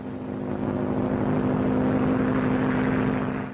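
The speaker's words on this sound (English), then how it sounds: "All ships give Bennett plane sitting down on Southfield preference." A propeller airplane droning steadily as it comes in to land on an airfield in 1937, a continuous loud engine hum that swells slightly and then eases.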